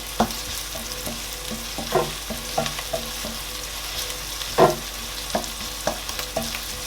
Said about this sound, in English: So I allowed my ginger and garlic to fry for like 1 minute